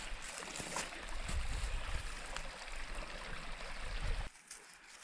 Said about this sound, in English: Got the creek flowing right here